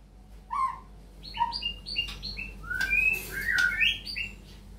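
A magpie robin sings a varied series of clear whistles and harsh squawky notes, close and fairly loud, with brief gaps between phrases.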